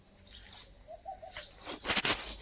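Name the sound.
birds chirping in the morning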